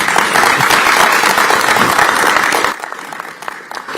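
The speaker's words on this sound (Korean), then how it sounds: "이 자리에 있는 우리 후보들께도 박수를 한번 보내드립니다." Applause for election candidates from a crowd at a Busan party rally, a loud dense wash of clapping that drops abruptly near the end to scattered, fading claps.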